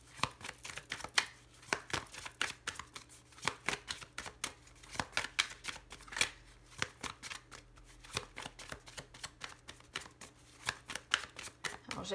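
Tarot cards being shuffled by hand, a quick, irregular riffle of soft papery slaps and flicks repeating throughout, close and fairly quiet with no talking.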